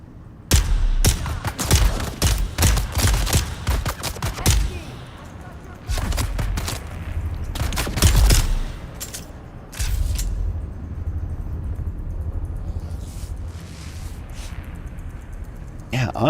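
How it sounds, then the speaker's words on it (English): Full-auto gunfire in Dune Awakening, with rapid bursts of sharp shots in quick volleys followed by sparser, quieter firing and rumbling background, loud and close throughout. "when I lay into full auto, there's just a lot of bullet spread."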